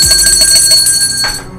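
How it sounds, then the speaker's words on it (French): A bell rung as a symbol of authority gives a loud, steady run of bright, sustained ringing with sharp tonal overtones, pulsing in quick repeated strokes before dropping off near the end. "chaque fois qu'on tourne une cloche là"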